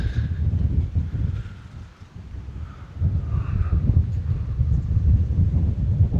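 Gusty wind blowing outdoors, heard as a low, rumbling buffeting that dips briefly and then builds again, with faint rustling over the top.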